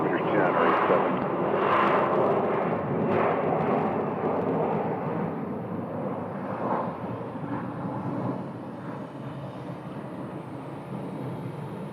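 Southwest Airlines jet departing Phoenix Sky Harbor toward San Francisco, a loud sustained engine roar that stays steady and then eases slightly, with voices talking underneath.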